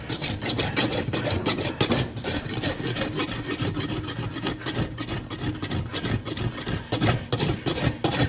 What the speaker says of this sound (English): Use the edge of my rasp to check dishes and flares.